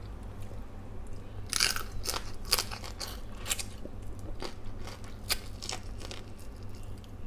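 Crisp crunches from biting into a fried galunggong fish head, a series of sharp close cracks and chewing sounds spaced irregularly over a low steady background hum.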